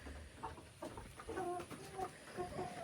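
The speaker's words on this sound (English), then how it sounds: "Maybe we should let one rooster out." Chickens and a rooster on a poultry homestead in Ghana, clucking and crowing in short overlapping calls close by against steady outdoor farm noise.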